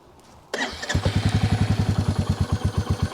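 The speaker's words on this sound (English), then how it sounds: "Just a nice little burble as it starts up." A Royal Enfield Meteor motorcycle cranks and starts, then settles into a rhythmic, throaty exhaust burble of rapid even pulses close to the mic.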